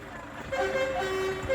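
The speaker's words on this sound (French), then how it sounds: "il y en a qui klaxonnent" Vehicle horns honk in a sustained, overlapping tone over steady road noise, fairly close.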